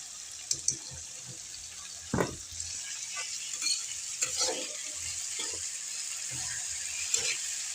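Chopped tomato fries in a hot pan with a steady soft sizzle, broken by scattered clinks and scrapes of stirring, close and moderately quiet, with no talking.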